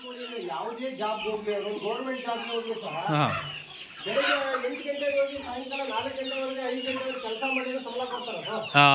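Native country hens on a farm clucking and calling, with a fowl cackling at close range throughout and a voice talking alongside.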